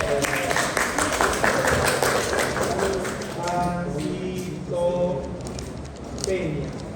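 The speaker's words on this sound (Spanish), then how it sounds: "Muy bien, aplausos para su compañero." Students in a physiology class give a brief round of clapping for a classmate, a quick patter of hands that fades as voices and talk take over.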